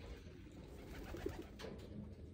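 Racing pigeons coo softly in a loft, a brief low burble over steady background hum, faint and close.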